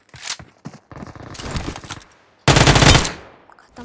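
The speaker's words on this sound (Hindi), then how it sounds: "मेरे पे कितनी गंदी गोलियां पड़ी थी ना" Gunfire in the battle royale game BGMI, with loud rapid bursts of automatic fire close by, separated by brief pauses and ending in one dense, heavy volley.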